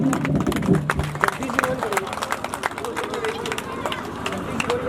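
Outdoor crowd applause and cheering for a revered religious leader at a village welcome ceremony, steady clapping mixed with babble and shouts from a large gathering, with a voice briefly audible over it.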